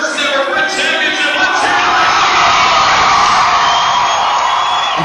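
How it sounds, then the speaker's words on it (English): Vancouver College fans fill a gym with loud, sustained cheering and yelling at a BRIT championship basketball game, a dense, continuous roar without a break. "Cheering for Vancouver College to win their first ever BRIT championship."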